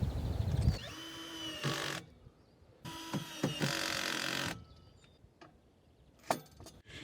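Bolts are tightened with a power driver while assembling a branch chipper, two bursts of whirring buzz separated by pauses, with scattered clicks and knocks, close by.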